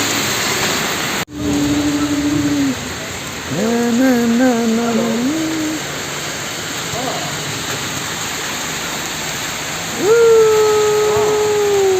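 Rain falls steadily in Diphu, a constant broad hiss of water on surfaces, while voices speak over it at intervals.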